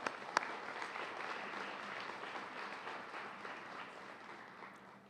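At the Bloomington Black History Month Gala, a banquet crowd gives a sustained round of applause, a soft, even patter of many hands heard at a distance with no speech over it.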